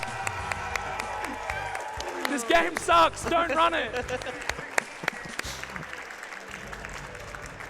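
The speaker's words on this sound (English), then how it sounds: "let's give a huge round of applause" A speedrun marathon crowd applauds with scattered cheers while someone speaks loudly over the clapping, which fades after a few seconds.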